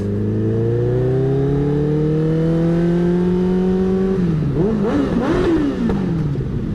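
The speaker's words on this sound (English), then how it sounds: "So this will be our first little sound test on this bridge, see how this bike sounds." A stretched and lowered Kawasaki ZX-14R motorcycle revving its exhaust on a bridge: a strong engine tone climbs steadily for several seconds, then drops off into a burst of crackling pops and burbles, loud and close.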